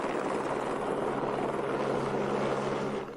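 A Russian helicopter in flight, a loud, steady rotor and engine roar that holds close and constant before beginning to fade at the very end, with no voices.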